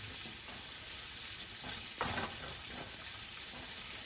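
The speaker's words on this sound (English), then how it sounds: "I'm going to add my onions, get these sauteed." Onions sautéing in a pan for shrimp in chipotle salsa, a soft, even, fairly quiet sizzle with a brief swell of stirring midway, heard alone without talk.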